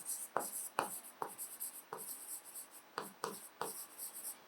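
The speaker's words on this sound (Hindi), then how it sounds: "दोबारा लिखती हूं मैं" Chalk or marker writing on a board, a series of close, sharp scratching strokes in irregular rhythm, some quick pairs, with no speech over them.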